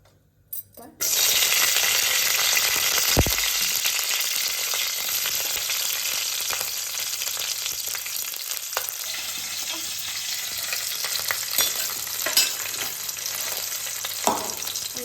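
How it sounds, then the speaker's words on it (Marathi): Chili and garlic tempering frying in hot oil for a mushi fish fry, a loud steady sizzle that starts abruptly after a second and stays strong throughout, with a few brief clinks of stirring. "इथे मिरची लसूण आणि त्याच्यावरच ही फोडणी घालायची"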